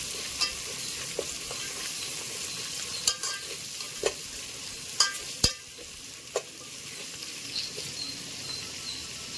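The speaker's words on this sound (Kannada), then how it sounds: "ಒಂದು ಬೌಲು ಈರುಳ್ಳಿ ಹಾಕ್ತಾಯಿದ್ದೀವಿ ಇದೊಂದು ಸ್ವಲ್ಪ ರೋಸ್ಟ್ ಆಗಲಿ" Sliced onions frying in a pot as the base for mutton biryani, a continuous soft sizzle close by with scattered sharp clicks and stirring knocks throughout.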